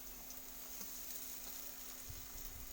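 Onions frying in hot oil with chillies in a pan for a spicy jhal fry: a faint, steady, even sizzle with no talk.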